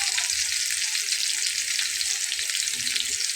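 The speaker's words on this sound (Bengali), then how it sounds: "তো মাছটাকে এভাবে ফাইন করে ভেজে নিতে হবে।" Hilsa fish fries in a pan with a close, steady, bright sizzle throughout and faint stirring noises, no speech.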